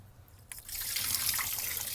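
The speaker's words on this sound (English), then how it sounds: "there's a whole lot of lake water coming out of there" Lake water pours out of the drain hole under the blue plastic plug on a boat's transmission, a steady close splashing trickle that starts abruptly and keeps running without any talk.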